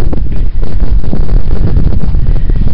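Cold wind gusting across a lake in winter, a steady loud roar of buffeting against the microphone with brief dips, no voices.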